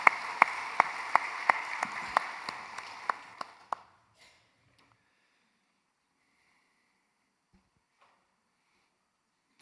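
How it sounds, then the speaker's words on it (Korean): A church congregation claps at a Sunday worship service, a sparse, uneven run of sharp hand claps that thins out and stops after about four seconds, leaving near silence. "하나님께 박수 올려드립시다."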